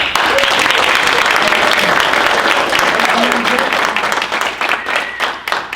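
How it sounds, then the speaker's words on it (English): Loud, sustained audience applause honoring a high-performing traditional high school in Idaho, steady broadband clapping for about six seconds that thins slightly toward the end, with some voices mixed in. "I just want to just give them a round of applause"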